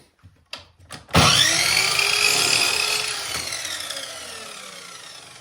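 A power saw bites into wood and cuts a mitred end off a board, a loud sustained whine after a few faint preliminary knocks, slowly fading as the blade runs down.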